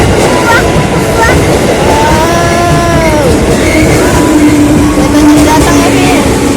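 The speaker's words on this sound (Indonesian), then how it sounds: "keretanya datang" A train pulling into a station in Indonesia, bound for Tanah Abang, rumbling loudly and continuously with a drawn-out, wavering brake squeal, while a child and adults chatter excitedly over it.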